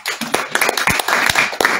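An audience at a diaspora conference opening session claps, sounding as dense, uneven bursts of applause from many hands that carry on throughout.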